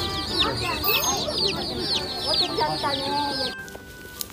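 Chickens clucking busily at a petting-zoo style animal attraction, half-grown young birds between chick and adult, with dense overlapping clucks and chirps throughout, then briefly quieter toward the end.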